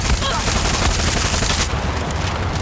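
Dense, rapid gunfire from the video game Far Cry 6 fills the clip, loud and continuous bursts with heavy low rumble, fading slightly toward the end.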